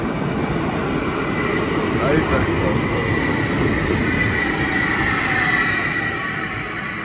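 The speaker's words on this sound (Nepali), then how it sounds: "ल टक्क मेट्रो आयो।" A metro train pulls into a station with a loud, steady rumble and rail noise that eases slightly toward the end, while a voice speaks briefly over it.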